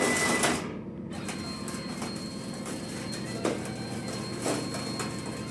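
A Langmuir Crossfire Pro CNC plasma table running its torch through a dry run, a steady mechanical whir of stepper motors with a few soft clunks, continuous and fairly loud.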